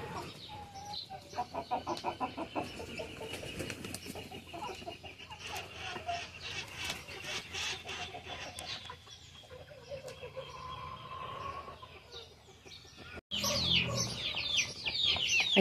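Chickens of Turkish and Polish breeds cluck in a coop, with repeated nearby clucks and calls over steady background noise, then a sudden louder burst near the end.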